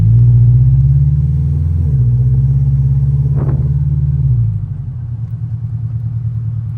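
Supercharged widebody Scion FRS engine pulling hard from inside the car, a loud steady drone with a brief shift dip. The pitch drops near the end into a rougher, lower rumble.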